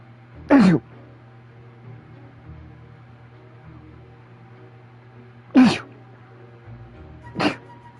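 A character sneezes in the Hogwarts Legacy video game, three sharp separate sneezes over a soft steady background hum, the first two strongest.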